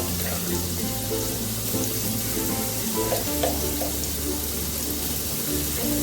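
Chopped garlic frying in a little oil for a crispy chicken starter, a loud steady sizzle with bubbling crackle, close up and with no talk.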